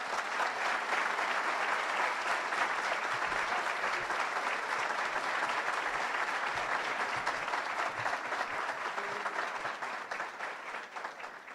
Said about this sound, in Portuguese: pedir uma grande salva de palmas